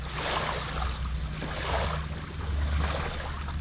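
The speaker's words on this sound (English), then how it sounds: "Do you guys hear that water?" Gentle lake water lapping at the shore of Lake James in North Carolina, a soft continuous wash with faint swells, fairly close and steady with no voices.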